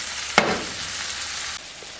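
Mince frying in a pan gives a steady close sizzle throughout, with a brief sharp clink near the start.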